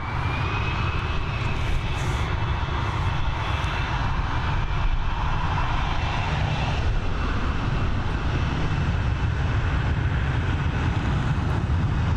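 Airliner departing Dublin Airport, a loud steady jet roar with broad rumble and a faint high engine whine, sustained throughout without voices.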